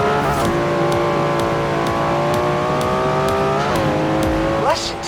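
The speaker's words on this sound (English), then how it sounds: "Never heard a Datsun sound like that, have you?" Upgraded Datsun in Forza Horizon 4, its engine held at a loud steady high rev, then dropping briefly and climbing again, heard close with tonal engine whine and rhythmic ticks.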